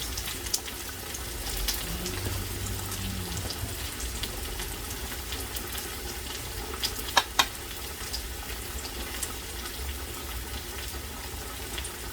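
Breadfruit fries in a pan with a little salt, a steady soft sizzle broken by a few sharp clicks of utensils against the pan.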